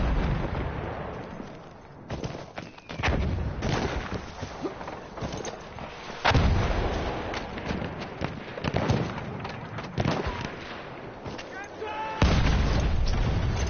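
Bombardment in a PS4 game: a constant rumble of explosions with several heavy booms standing out, scattered loud bursts, and a voice under the barrage.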